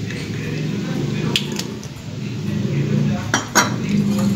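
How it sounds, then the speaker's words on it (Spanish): A dressing of oil, vinegar and lemon whisked in a bowl, giving a close, continuous stirring swish with a few light metallic clinks against the dish. "Y lo batimos así."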